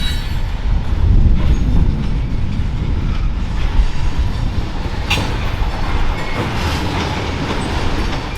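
CPKC freight train rolling by on the port subdivision near Selkirk, a close, continuous low rumble of railcars with clattering wheel beats and a few sharp metallic squeals and clanks, no voices.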